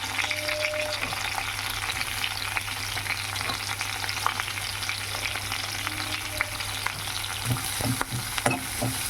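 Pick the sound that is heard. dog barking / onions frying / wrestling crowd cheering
onions frying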